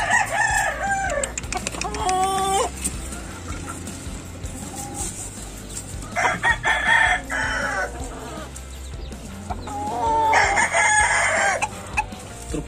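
Several young roosters crow in turn, with thin, cracking calls rising and breaking off, some overlapping, close by against a low background rumble.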